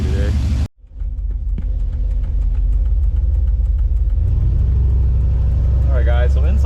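A Ford Ranger with a swapped LS engine and new exhaust rumbles steadily on a test drive, a loud low drone that builds slightly as the truck gets moving.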